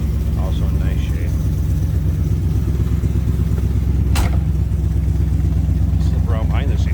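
A 1963 Studebaker Avanti R-2 engine idling with a low, throaty dual-exhaust rumble, steady and close throughout, with a faint sharp click and a few distant chirps over it.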